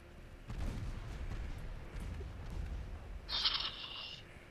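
Naval ship guns boom in Ultimate Admiral Dreadnoughts: a muffled heavy report, then lower rumbling shots and a brief high metallic ring near the end, all fairly quiet and distant, without speech.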